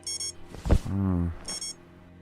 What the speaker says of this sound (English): here I thought you were gonna sleep through your alarm